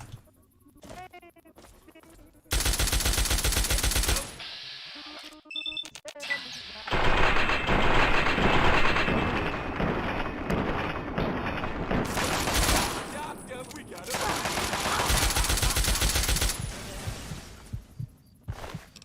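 A Chinese assault rifle fires in Fallout 3, long dense bursts of rapid automatic shots loud and close, separated by quieter gaps with other game sounds and someone talking.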